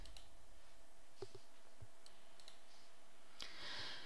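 A few sharp computer mouse clicks while saving in Expert Manager software, isolated taps spread over a quiet stretch, close and fairly faint with no talking.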